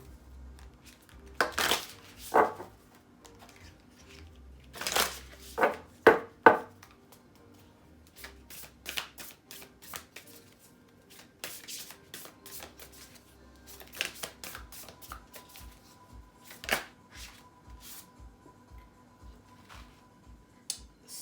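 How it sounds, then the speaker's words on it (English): Tarot cards are shuffled and riffled in scattered bursts, with soft snaps and flicks of card stock separated by quiet pauses and light tapping, close but fairly faint. "Too many cards here. You gotta reshuffle here too."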